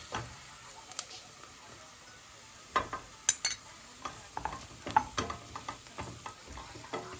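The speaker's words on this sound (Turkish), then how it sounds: "Şöyle 1-2 dakika unumun kokusu çıkanıncaya kadar kavuracağım arkadaşlar." Flour is stirred and roasted with fried onions in a pan, giving a soft, steady sizzle under close, irregular scraping strokes of the spoon, with no talking.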